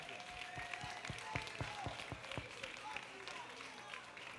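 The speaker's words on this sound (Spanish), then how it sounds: "Un fuerte aplauso para todos y todas, de verdad." A crowd applauds at the final of a competition between Cangas and Lugo, with fairly quiet, distant clapping carrying a loose rhythmic pulse while voices talk over it.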